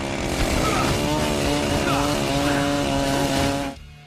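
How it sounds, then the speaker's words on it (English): A weapon made of two chainsaws duct-taped to the ends of a kayak paddle in Dead Rising 2 buzzes with a loud, steady, revving engine drone that cuts off sharply near the end. "this weapon is put together with 2 chainsaws duct taped on the edges of a kayak paddle"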